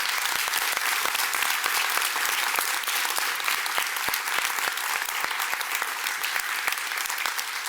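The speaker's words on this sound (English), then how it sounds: "Huge round of applause for our city employees." An audience at a city's state-of-the-city address gives sustained applause for city employees, a dense, steady patter of many hands clapping that continues throughout without a break.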